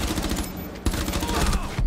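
Rapid gunfire sprays through a wall during a round of the video game Rainbow Six Siege, a dense burst of loud, continuous shots filling the whole moment.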